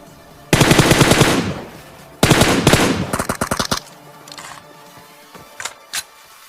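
Automatic gunfire in a squad-battle shooter game: two loud sustained bursts of rapid fire, the second breaking into shorter volleys, then a few single distant shots.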